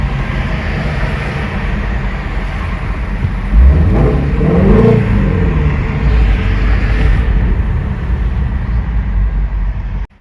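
A 2016 Shelby GT350 Mustang engine builds up while driving through traffic, a loud rising rev swell climbing over steady road and engine rumble before settling back into a continuous drone.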